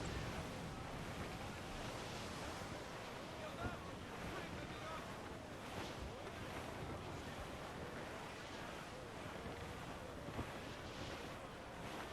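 A squall at sea in Assassin's Creed Black Flag roars with constant wind and crashing waves around a sailing ship, loud and unbroken throughout, with voices faintly mixed in.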